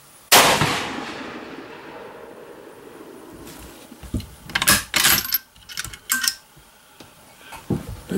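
A single sharp, loud shot from a .223 rifle firing a 55-grain bullet at a shooting range cracks out early and rings away, followed by assorted clanks and handling noises.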